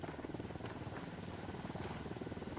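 A helicopter in the video game Tom Clancy's Wildlands gives a faint, steady rotor chop with a fast, even beat, heard alone.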